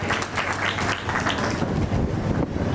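Crowd applause at a creator meetup event in Kichha, Uttarakhand, a dense, steady roar of many hands clapping throughout, loud and broad, with a windy, wash-like texture.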